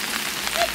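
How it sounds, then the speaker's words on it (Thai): Steady rain falling at a campsite in Kaeng Krachan National Park, a dense, even hiss of drops on surfaces, close and continuous. "ฝนตก"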